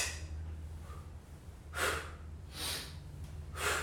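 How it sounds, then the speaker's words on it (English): Heavy breathing from a person doing a swing exercise, three loud breathy exhales around a steady low hum, each a short burst of air with pauses between them. "listen to my breathing as I do this movement again"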